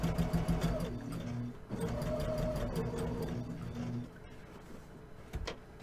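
A sewing machine stitches a tote bag in a close, steady whir that runs for several seconds, pauses briefly, resumes, then tapers to softer clicks and a final short burst.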